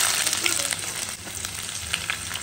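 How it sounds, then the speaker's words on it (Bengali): Peanuts frying in oil produce a close, steady crackling sizzle with faint stirring ticks throughout, with no voices. "তেলের মধ্যে বাদামটা দিয়ে নিলাম, বাদামটাকে একটু লাল লাল করে ভাজবো"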